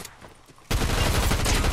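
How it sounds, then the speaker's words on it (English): Sustained loud gunfire erupts in the video game Fortnite after a quieter stretch, a dense burst of rapid shots continuing to the end. "Other people shooting."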